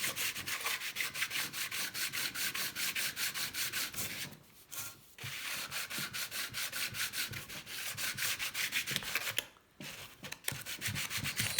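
Sandpaper rubbing by hand across the mating surface of an engine case from a 1984 Honda C70 motorcycle, a steady rapid back-and-forth scratching strokes, loud and close, with two brief pauses.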